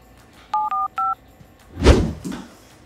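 A phone keypad is dialed, three short electronic tones in quick succession, followed by a soft thump and shuffle of handling nearby.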